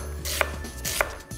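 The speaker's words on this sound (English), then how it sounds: "I'll start by chopping my onions." Onions being roughly chopped with a knife for corned beef hash: two clear crisp knife strikes on a board, each followed by a short scrape, close and alone with no talk.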